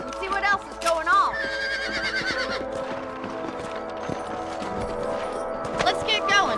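A horse whinnies loudly a couple of times over steady clip-clopping hooves, with a low musical drone underneath, in the video game Red Dead Redemption.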